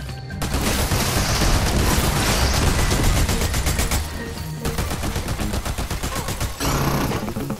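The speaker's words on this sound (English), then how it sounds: "Should I keep spamming my rockets?" Rocket launcher spammed in Fortnite, a sustained barrage of loud booming shots and explosions running almost without pause, close and dense with little talking.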